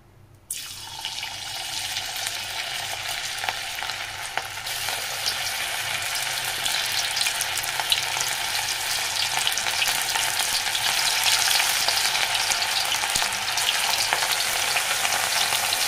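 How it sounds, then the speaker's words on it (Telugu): Pieces of ivy gourd coated in corn flour drop into hot oil for deep frying, a sudden onset of loud, steady bubbling sizzle that keeps going without a pause. "డీప్ ఫ్రైకి ఆయిల్ వేస్తున్నాం"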